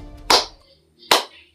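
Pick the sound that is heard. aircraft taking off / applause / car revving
applause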